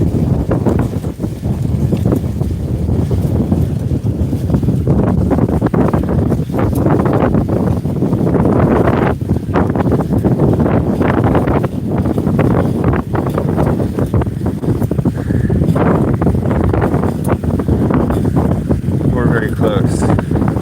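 Strong wind buffets the microphone during a bicycle ride around water in a park, producing loud, constant roaring rumble throughout with gusty fluctuations and no break.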